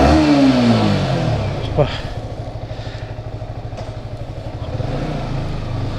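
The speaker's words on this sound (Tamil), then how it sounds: "வண்டி ஸ்டார்ட் பண்ணி நம்ம அந்த சவுண்டு கேட்டு பார்ப்போம்" A modified Yamaha R15 motorcycle starts up and settles into a loud, close, rapid throbbing idle with slight revs, while a voice speaks briefly at the start.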